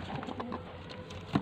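Soft pigeon coos and faint rustling over a low background hum, ending with a brief louder flutter or scrape.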